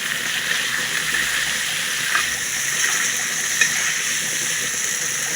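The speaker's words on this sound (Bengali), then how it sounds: "এইভাবে আমি ভাজা করে নেব মাংসটা।" Chicken frying in a pan with onion and spices gives a steady, even hiss of sizzling oil that is close and constant, with faint crackles now and then and no talking.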